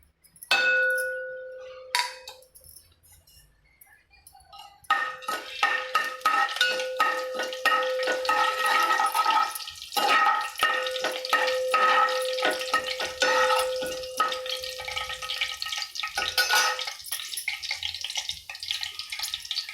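Crackling, popping sizzle of spices dropped into hot oil, starting abruptly and continuing steadily, with a few metallic clinks and a high tonal whine underneath.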